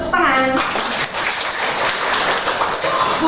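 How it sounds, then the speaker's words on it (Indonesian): An audience claps at a medical lecture on uncomplicated malaria, a dense burst of applause that starts after a short bit of speech and continues steadily, loud and close. "tepuk tangan"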